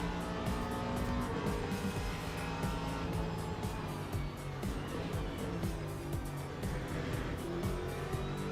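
GT race cars, a V8 Ford Mustang and a V6 turbo Ferrari, roar together in a dense, continuous engine howl at speed on a circuit, loud and steady throughout.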